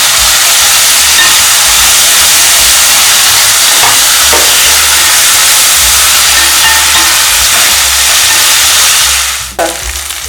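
Cashews fry in ghee along with green chili, ginger and garlic, making a loud, close, continuous hissing sizzle that ends with a brief clank near the finish.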